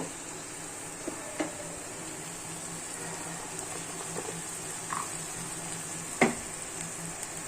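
Cooked rice stir-fried in a pan with chili powder and turmeric: a soft, steady sizzle runs throughout, broken by a few faint scrapes and clinks of a spoon against the pan, with no talking.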